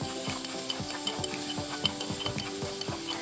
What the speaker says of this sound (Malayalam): ലേശം ഉപ്പും കൂടെ ഇട്ട് നന്നായിട്ട് ഇളകി കൊടുത്തേ.